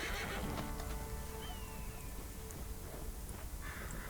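A horse in the video game Red Dead Redemption 2 lets out a short, fairly faint whinny over steady outdoor ambience with light rain-like patter.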